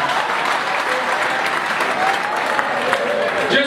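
Audience at a comedy show during a wedding applauding steadily, a dense wash of clapping from a crowd that holds at an even loud level throughout.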